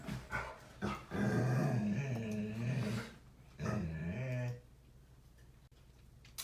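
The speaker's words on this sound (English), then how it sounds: "Paisley, stop barking, my friend" A dog growls and barks in bursts close by indoors, with a drawn-out growl in the middle and a quiet pause near the end.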